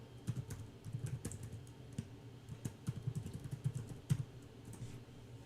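Rapid clicking of computer keyboard keys, typed in quick irregular bursts at close range over a faint background hum, with no voices.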